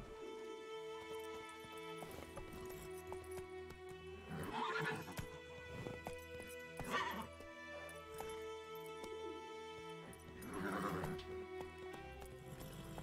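Horse riding in The Witcher 3: steady hoof clip-clop with occasional snorts and whinnies, set against a constant droning music bed.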